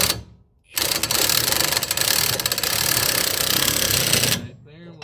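A pneumatic impact wrench rated at 1,000 foot-pounds drives trailer hitch bolts tight, firing one loud, continuous, rapid hammering burst of several seconds that stops abruptly.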